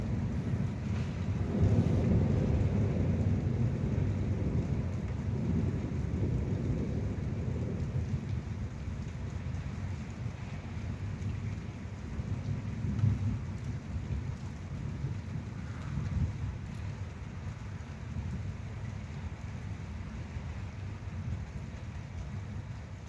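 An evening thunderstorm pours heavy rain steadily, with deep rumbling thunder swelling early and rolling on beneath the constant downpour, wind buffeting the microphone at times.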